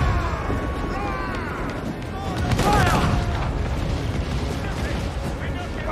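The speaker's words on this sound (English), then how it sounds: "This mortar fire will fuck us up, dude." Mortar fire rumbles through a naval battle in Assassin's Creed IV Black Flag, with deep booms and blasts rolling under continuous game noise while voices are heard.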